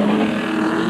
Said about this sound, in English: Piazza Musso had a great start and immediately slotted into the lead